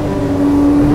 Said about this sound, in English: Always love it when the throttle responds so instantaneously.